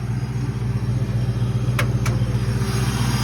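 A twin Torqstorm-supercharged 1970 Ford Galaxie engine runs with a loud, steady, close rumble, broken by two brief sharp clicks near the middle.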